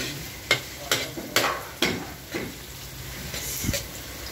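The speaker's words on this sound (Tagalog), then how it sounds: "Pag golden brown din natin sibuyas bago iluhulog ang bawang." Onions frying in a pan before garlic goes in, while a ladle scrapes and stirs in a run of about six crisp strokes over a low steady sizzle, close and without talk.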